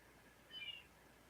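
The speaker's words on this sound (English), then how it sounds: "Can you guys hear my cat?" A pet cat that wants to go outside gives one short, thin meow, faint and set well back against a steady background hiss.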